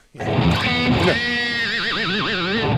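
Electric guitar effect played to imitate a horse neighing, a sharp attack followed by a rising, wavering whinny-like whine with vibrato, loud and close for about three seconds.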